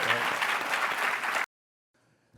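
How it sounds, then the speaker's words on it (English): A summit audience on financial inclusion gives its panelists a loud round of applause that runs steadily for about a second and a half, then cuts off abruptly into near silence. "please join me in giving them a round of applause"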